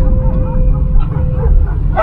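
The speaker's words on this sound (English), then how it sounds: "dogs chasing the car" Dogs chasing a car on a narrow Romanian mountain road bark and yip in short bursts over the steady low rumble of the car engine, fairly close, with an overlapping whine.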